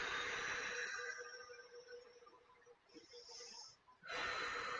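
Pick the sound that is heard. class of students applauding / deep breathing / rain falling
deep breathing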